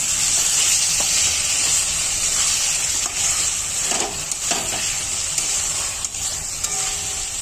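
Ground garam masala paste sizzles steadily in hot oil in a pan with pointed gourd, a continuous bright hiss with faint stirring scrapes throughout.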